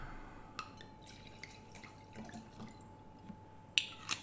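A 2019 Weißburgunder white wine from Weingut Caspari-Eggert trickles into a glass at a live tasting, heard as faint, scattered drips and small splashes with a brighter glassy clink near the end.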